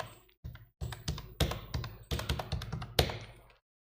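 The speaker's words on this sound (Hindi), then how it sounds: "मैं फाइनली कीबोर्ड से मैं यहाँ पे आपको" Someone types a captcha on a computer keyboard, a quick run of crisp key taps in short bursts with brief pauses between them, then silence at the end; nobody speaks.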